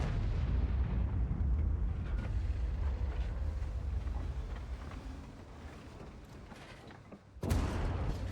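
Artillery firing in a war video game, a deep continuous rumbling boom that slowly fades, followed by a sudden fresh blast near the end.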